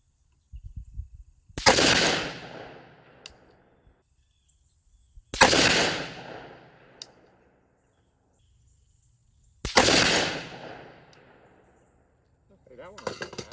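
Three loud, sharp rifle shots from a 6.5 Grendel firing Nosler RDF 130-grain rounds ring out several seconds apart at a range, each cracking hard and then decaying into a long echo.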